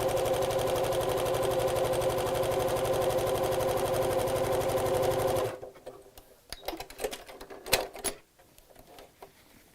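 A sewing machine runs steadily and close for about five seconds while gathering fabric with elastic, then stops and is followed by soft rustling and handling of the fabric.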